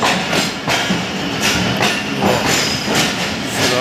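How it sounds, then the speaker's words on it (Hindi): A train rolls past alongside at Gujrat railway station in Pakistan, with loud rhythmic wheel clatter and clanking of passing cars close by, no talking. "साथ साथ ट्रेन जा रही है"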